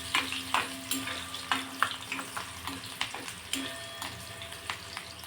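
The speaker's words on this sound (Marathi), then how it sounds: "कांदा व्यवस्थित भाजून घ्यायचा।" Finely chopped onion fries in a pan for a dhaba-style soybean chunk curry, giving a soft, steady sizzle broken by repeated sharp scrapes and knocks of a spoon stirring, about one every half second, close up.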